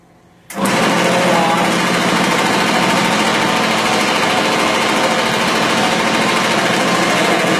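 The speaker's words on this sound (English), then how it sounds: "the agitation from the machine agitates the carpets upside down and beats out the grounded dirt that's been there for any number of years" Rug cleaning machine switching on abruptly and running continuously as it agitates and beats an area rug, a loud, dense mechanical buzz with a rapid rattling pulse that holds steady and close throughout.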